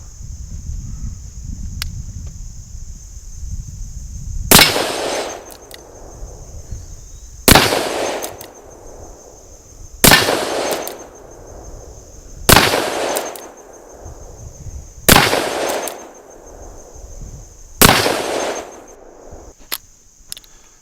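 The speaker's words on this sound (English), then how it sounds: "I'm just going to shoot it offhand here and burn up till I can't shoot no more." A Cimarron S&W American Model 3 First Model revolver in .44 WCF fires six loud, sharp shots, evenly spaced a few seconds apart, during cowboy action shooting.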